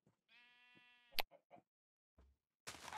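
A sheep in Minecraft gives one sustained, wavering bleat, followed by a few short, sharp game sound effects and a brief burst of noise at the end, all heard quietly.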